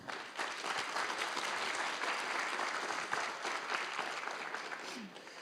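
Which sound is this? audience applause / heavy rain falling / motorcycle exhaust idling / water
audience applause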